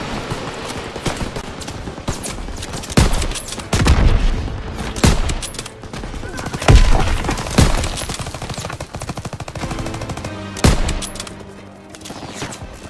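Heavy machine gun fire in Call of Duty WW2's D-Day beach mission: loud, dense bursts and booming shots crackle over a constant battle din, with sharp peaks recurring every second or two throughout.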